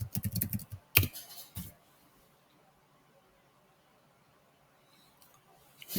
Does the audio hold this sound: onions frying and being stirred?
no